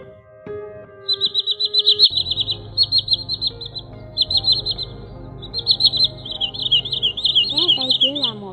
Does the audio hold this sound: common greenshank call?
yes